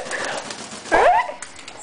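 Parrots squawk during a bath, one harsh rising call standing out near the middle over a steady background of splashing water and faint chatter, loud and close.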